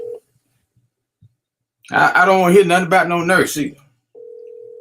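An outgoing phone call puts out a steady single-pitch tone that stops and returns, with brief tones between, while someone talks loudly over the gap between them.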